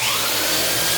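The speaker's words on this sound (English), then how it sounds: "Alright, so we sand it." A power sander works the surface of a wooden door at a woodwork exhibition, a loud, steady, high whirring grind held without a break, close up and alone.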